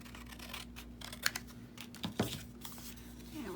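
Scissors cut 12x12 craft paper for a pocket, giving a few quick crisp snips and rustles close up over a faint steady hum.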